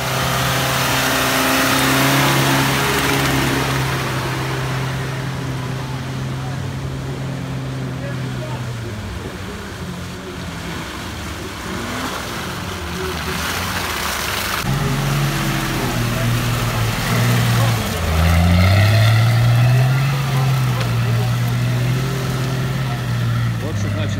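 Off-road vehicle on arched tyres driving over rough ground at an off-road event in the Carpathians, its engine droning steadily, then revving and swooping in pitch later, loud and near while a voice talks over it.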